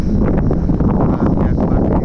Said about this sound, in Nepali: तल हावा शिरशिर एकदम रमाइलो भएर छ।